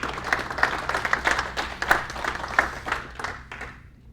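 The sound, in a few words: applause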